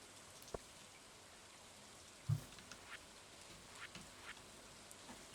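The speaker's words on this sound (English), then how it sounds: "Very cozy rainy day." Rain falling in the Stardew Valley video game, a soft, steady patter at low level, broken by a few brief louder drips and taps, with no talking.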